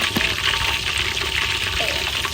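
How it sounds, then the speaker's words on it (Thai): Fish frying in hot oil, a dense, steady crackling sizzle close by with occasional sharper pops, running continuously throughout. "ทอดให้หลวงทองไปเลยค่ะ"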